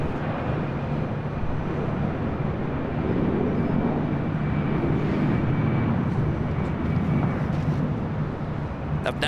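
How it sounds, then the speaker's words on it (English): An airliner taxis at LAX airport, producing a continuous, broad, loud jet-engine rumble with a faint steady whine that holds level throughout. "Up next, Delta Airlines flight"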